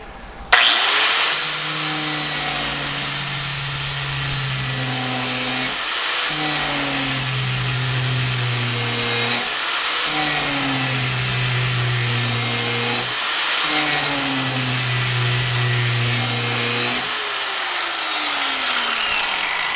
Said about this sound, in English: So we'll do a little bit of grinding.